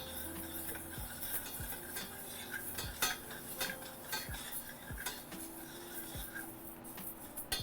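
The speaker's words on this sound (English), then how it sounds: "Stir it up. Don't burn the rice kernels." A utensil stirring rice in a pan on the stove, with regular scraping and tapping strokes against the metal over a steady low kitchen hum, close and fairly soft, with no talking.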